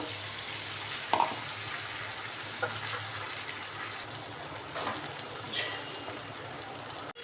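Pumpkin kofta curry masala sizzles and fries in a pan, a constant close hiss with a few soft stirring clanks and scrapes, no talking.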